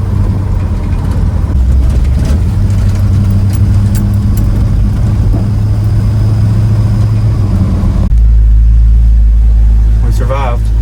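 A Chevrolet C10 pickup truck drives slowly on a cold day with its cooling fans disconnected. A steady low engine rumble sounds close by, then settles into a deeper idle-like drone near the end.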